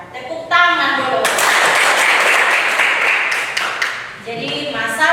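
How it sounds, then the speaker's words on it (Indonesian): A classroom breaks into loud, sustained applause from students for several seconds, with speech briefly audible at the start and end. "Tepuk tangan dulu."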